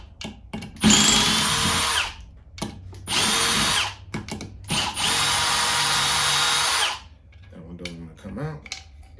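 A cordless power drill spins with a driver bit, setting screws in three long sustained whirring runs and a few shorter bursts, close and loud, with brief pauses and some handling noise between them.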